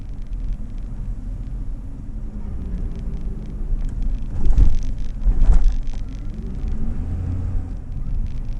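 Car rolling slowly through an RV park in Anaheim, California, a steady low engine and road rumble close by, with two brief louder bumps partway through and no talking.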